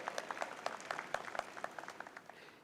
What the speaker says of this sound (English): Let us give a good round of applause for President Professor Zafrullah Chaudhry.